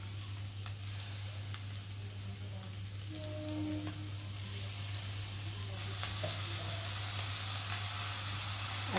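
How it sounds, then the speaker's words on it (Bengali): Chow mein sizzles steadily in a hot pan, a continuous close frying hiss with occasional small crackles and stirring noises, and no talk over it. "চলো একটু হালকা করে ভেজে নিই।"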